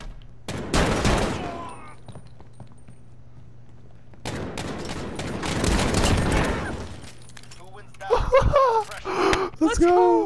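Video game gunfire comes in two dense, crackling bursts of rapid shots with a pause between them, loud and close, while voices shout and gasp near the end.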